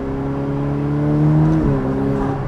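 A Ferrari F8 engine revs hard and loud with a steady harmonic drone, then drops pitch sharply at a quick gear shift near the end before pulling again, heard close and continuous with no talk.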